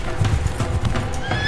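Wild mustang horses on open plains, hooves clip-clopping in a steady galloping rhythm close by while one horse lets out a whinny near the end.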